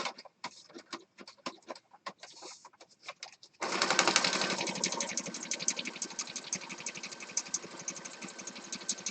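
A sewing machine runs steadily, stitching around the edge of a yellow junk journal page. A stretch of scattered clicks and brief handling noises comes first, then the motor hums in one continuous, fairly close run with no talking.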